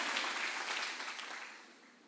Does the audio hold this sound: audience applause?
yes